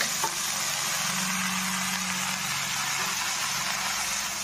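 Washed spinach leaves hitting hot oil in a pan with fried tempering spices, giving a steady, dense sizzle and hiss that carries on without a break.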